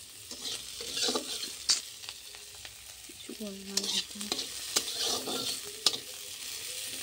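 Potatoes sizzle quietly in a pan, with a steady hiss broken by several sharp scraping stirs and taps of a spatula, heard close up with no talking.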